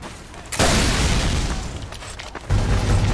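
Rocket blasts in Team Fortress 2 gameplay: a sharp booming explosion bursts in, rumbles on, and a second heavy blast hits near the end, loud and close with no talk.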